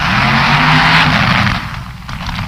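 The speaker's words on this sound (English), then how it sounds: "Now watch him spin his wheels and watch them rise. coming out of the bleach box." A funny car drag racer spins its wheels out of the bleach box, a loud, dense engine roar and tire burn that stays strong for most of two seconds before easing slightly, with no talk.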